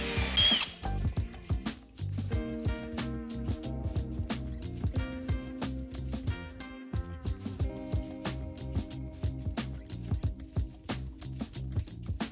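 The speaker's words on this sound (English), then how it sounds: "We measure and drill a hole for the magnetic mechanism." A power drill bores a hole in a wooden closet door for a magnetic catch, its motor whining in a steady, loud drone with brief pauses and pitch shifts as it bites into the wood.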